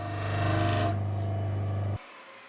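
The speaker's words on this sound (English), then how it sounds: "Then I could sand the patches down to fit" Sanding a wooden floorboard Dutchman patch, angled on a 10-degree jig, in a workshop: a steady, loud abrasive rasp with a low hum that runs for about two seconds, then cuts off to near quiet.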